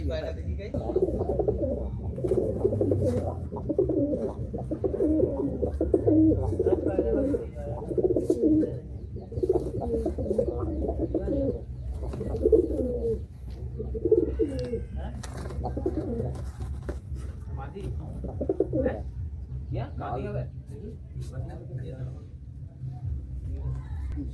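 Pigeons in a loft in Chandipur, Medinipur coo repeatedly, deep throaty rolling calls overlapping close by, while someone talks over them.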